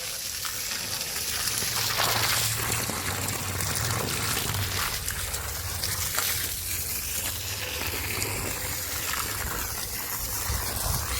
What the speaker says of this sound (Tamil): ஸோ இதுக்கு தண்ணி விடுறேன்.